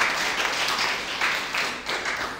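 A group of children clap for themselves during a child-safety lesson, a lively, steady patter of small-handed applause that fills the room at moderate loudness.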